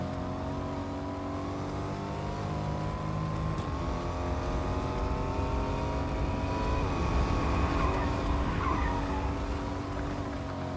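Car engine in Fortnite driving along steadily, its pitch gliding up and down with throttle changes, with brief tire scuffs, a continuous loud engine drone with no talk.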